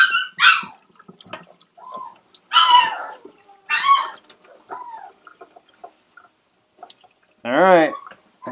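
Olive, a six-week-old AussieDoodle puppy, yelps and whines in short, scattered bursts. A longer, louder cry comes near the end, and light background clatter sits in the gaps.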